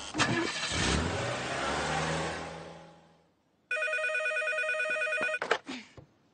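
A telephone rings in a cartoon, a regular repeating electronic trill lasting under two seconds. It follows a loud stretch of car engine noise that fades into a brief silence, with no one speaking.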